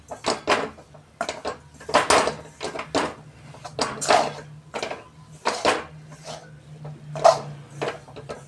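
Repeated scraping and knocking of a spoon stirring a thickening sesame and jaggery mixture in a pan, a steady rhythm of close, moderately loud strokes with a low hum underneath.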